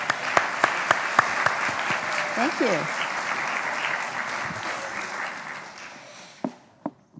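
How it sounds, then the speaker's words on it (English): Audience applause fills a garden club meeting. A steady round of clapping sustains for several seconds before it thins into a few scattered claps near the end. A voice briefly speaks over it. "How about another round of applause for Lisa?"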